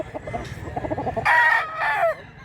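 A rooster clucks in quick low bursts, then breaks into two loud, drawn-out squawking calls, close by with no talking.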